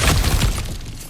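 Cracked ground broken through in God of War Ragnarok, a loud crunching, shattering burst of debris at the start that rumbles and settles over about a second.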